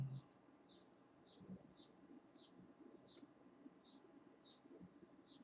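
Computer mouse clicking while editing in Movavi video software: about ten soft, evenly spaced clicks, quiet and close, over a faint low hum.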